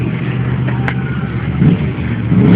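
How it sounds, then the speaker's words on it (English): Motorcycle revving hard during a burnout into a donut at a bike show, a loud close engine roar with surging revs and a gritty rasp, no voices. "Here we go, doing a burnout into a donut."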